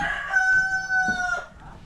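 A rooster crows at a moderate distance, one sustained call over faint outdoor background noise.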